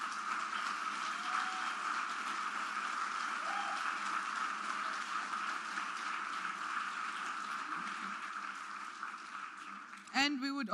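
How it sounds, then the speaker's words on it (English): Sustained applause from a large conference audience at a prize-giving and closing ceremony, steady and broad throughout, with murmuring voices mixed in and a brief louder burst near the end. "Everyone at the back, just give a round of applause for everyone at the back."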